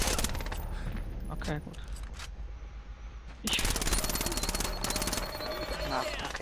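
Gunfire aimed at a sniper in Splinter Cell Blacklist, rapid bursts of shots loud and close, a quieter stretch in the middle, then heavy firing again, with brief talk over it.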